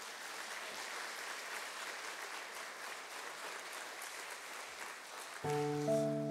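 A church congregation's applause at a prayer gathering, steady moderately distant clapping filling the hall throughout, with a brief tonal sound entering near the end.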